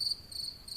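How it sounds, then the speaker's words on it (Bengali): Crickets chirp at night along a dark, rainy village road in an animated Bengali horror story, a thin high trill pulsing in short bursts over faint low background noise, with no one speaking. "শুধু বৃষ্টি আর ঝিঝি পোকার শব্দ"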